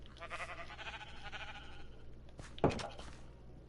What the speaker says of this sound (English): Nah, sheep are loud.